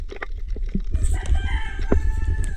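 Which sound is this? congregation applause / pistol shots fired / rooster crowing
rooster crowing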